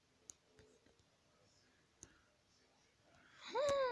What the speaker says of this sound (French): Excusez-moi si vous entendrez le bruit de mon doigt qui touche